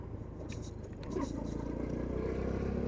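Boom Vader 125cc motorcycle, a Honda Grom clone, accelerating in third gear, a low engine drone that swells a little louder partway through, with road and wind noise around it.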